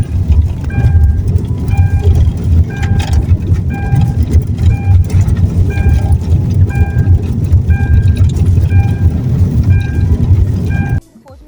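A car drives along a road, its steady engine and tire rumble running loud and close with a regular light ticking over it, before the sound drops away abruptly at the very end.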